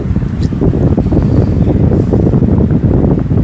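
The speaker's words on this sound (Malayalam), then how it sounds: "കാറ്റൊക്കെ കിട്ടുന്നുണ്ട്" Strong wind roars steadily across the microphone, a loud, continuous rumbling gust with no voices.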